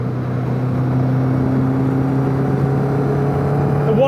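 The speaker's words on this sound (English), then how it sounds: "The whine from the Sierra dip is" A steady mechanical whine from a Sierra differential in an MK Indy kit car with a Kawasaki ZZ-R1200 engine, droning as a constant tone over continuous engine and road noise while driving, without talk.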